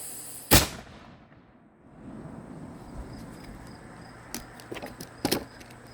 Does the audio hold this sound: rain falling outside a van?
no